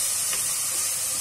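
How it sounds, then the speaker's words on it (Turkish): Onions sauté in oil in a pot over medium heat for soup, giving a steady soft sizzle and hiss, close and constant throughout the short stretch with no talking. "Daha sonra soğanları hafif yumuşayıncaya dek kavuruyorum."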